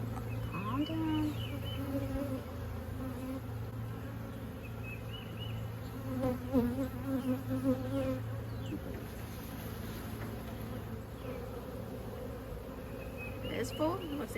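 Stirred-up bees swarm around an opened hive during an inspection, a dense, continuous buzzing close by with individual bees whining past, while a person speaks briefly in the background.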